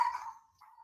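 A dog lets out one short, sharp bark or yip that fades quickly, followed by a softer second whine-like yelp, close and fairly clear, with no talking.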